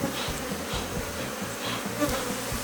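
Honeybees buzzing around an open hive frame holding brood and pollen during a colony split, a close, dense, continuous drone with individual bees whirring past.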